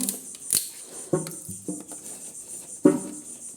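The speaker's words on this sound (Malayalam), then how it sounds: "അപ്പം നമ്മൾ ഇത് പൊട്ടിക്കാൻ പോവുകയാണ് കത്തി എടുത്തിട്ടുണ്ട്" A knife cuts open a biscuit packet, giving a handful of crisp, close plastic snips and crinkles in an uneven rhythm.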